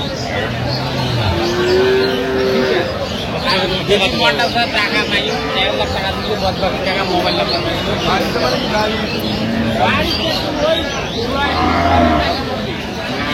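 Jersey cows and calves moo at the Aftabganj cattle market, low drawn-out calls near the start and end, under constant crowd chatter and voices.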